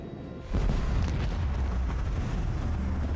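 Plasma torpedo explosion in the space-combat video game Warhammer 40k: Rogue Trader: a sudden deep boom followed by a sustained rumbling roar, loud and alone.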